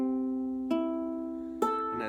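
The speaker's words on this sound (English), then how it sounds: "Make sure your ukulele's in tune." An in-tune ukulele is strummed three times, each chord ringing out clearly and decaying before the next stroke, close and fairly quiet with no voices.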